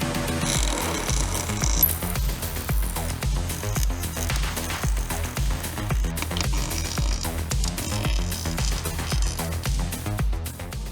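Tack welding a differential on a BMW E36, a harsh continuous crackle and buzz of the welding arc, close and loud with dense rapid popping throughout.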